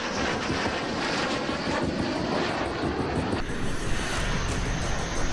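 A fighter jet roars overhead, its loud, broad engine noise holding steady for several seconds and shifting in tone partway through as it passes.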